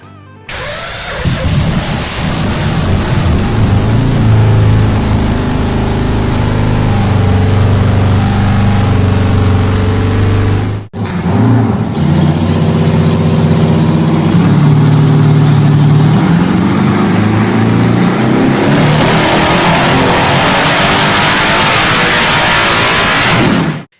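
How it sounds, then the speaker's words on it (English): A BMW cafe racer motorcycle's R100 RS boxer engine, fitted with big valves and Dell'Orto PHM40 carburettors, revs loud and close in a sustained roar, with a brief break midway before it resumes. "It's an R100 RS motor treated to big valves, breathing through Dell'Otto PHM40 carbs."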